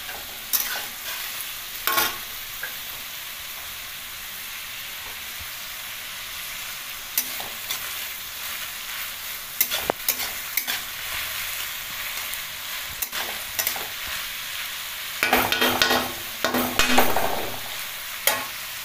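Mutton kosha masala frying in a pan, a continuous low sizzle broken by scattered stirring scrapes and clinks, with a louder burst of stirring near the end, close and moderate.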